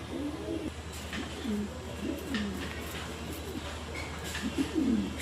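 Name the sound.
pigeons cooing in pigeon house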